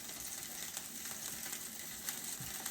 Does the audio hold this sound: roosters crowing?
no